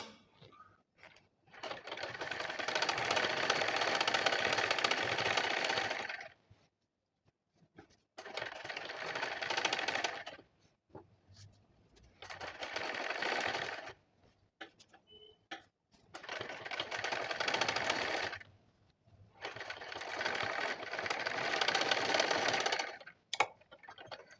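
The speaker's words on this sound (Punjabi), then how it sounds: "ਬਿਲਕੁਲ ਉਹ ਸੀਨ ਦੇ ਉੱਪਰ ਹੀ ਆਪਾਂ ਸਿਲਾਈ ਲਗਾਵਾਂਗੇ" Sewing machine stitching lace onto the neckline of fabric along a seam: five long steady runs of rapid mechanical stitching, each several seconds long and separated by short pauses, close and clear.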